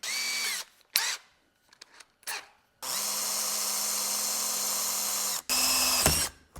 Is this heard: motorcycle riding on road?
no